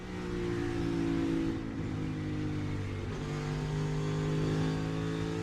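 A NASCAR Cup Series car drones loudly and steadily on track as it spins out, its engine tone wavering slightly. Nobody talks.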